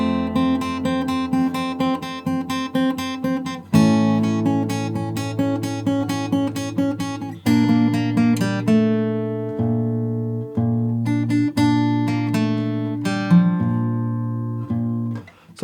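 Fingerstyle acoustic guitar plays the verse of a song, with a steady pulse of plucked chords and bass notes over about fifteen seconds, clear, close and alone.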